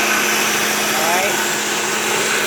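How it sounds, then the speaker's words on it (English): A blender runs steadily, mixing sugar and milk into a smooth liquid, giving a constant high motor whine and whirring hiss throughout, with some faint talk underneath. "I've got the blender going just to break down the sugar and the milk so it is smooth."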